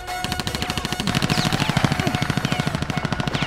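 Rapid automatic gunfire from a Hindi action film scene, a dense, even rattle of shots that starts abruptly and continues loud without a break.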